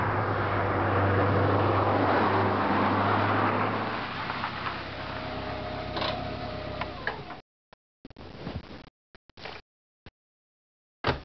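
A Lancia Delta Integrale with a 2-litre four-cylinder engine roars hard and close, its note easing after a few seconds before the sound breaks into short bursts and gaps.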